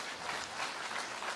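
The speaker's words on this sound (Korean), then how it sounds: "여러분 큰 박수 부탁드립니다." Audience applause at a Rotary club membership and public image seminar, a steady dense patter of many hands clapping at moderate distance, filling the whole short stretch without voices.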